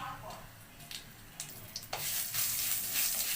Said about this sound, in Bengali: আমি এবার 5 ফোড়ন দিয়ে দিলাম, হাফ চামচের কম।